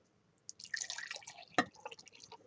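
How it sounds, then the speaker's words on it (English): Liquid trickles into a cup in a kitchen chemistry setup, a quiet, close dribble broken by distinct drips and one sharper splash midway, with no talking. "I'm going to pour it into a cup first because I don't want to lose any of it"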